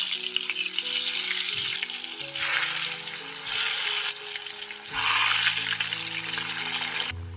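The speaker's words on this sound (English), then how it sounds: "I am going to fry my marinated potatoes." Marinated potatoes frying in a pan for a Bengali-style chicken curry, a loud continuous sizzle rising and falling in waves, with music playing underneath.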